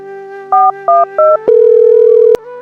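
A telephone call is placed in a village setting: three short two-tone dialing beeps, then a sustained steady dial tone, ending abruptly with a click.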